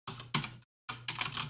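Keys on a computer keyboard are struck in two short bursts of rapid clicks, close and clear, with a brief pause between them.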